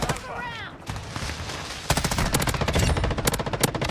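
Hip-fired M13B rifle on the small Shipment map in a video game, sputtering shots at first, then a loud rapid automatic burst with sharp regular reports dominating the second half.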